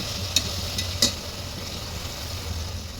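Onions and tomatoes sautéing with garam masala in a pan, a steady soft sizzle with a couple of brief scraping stirs near the start.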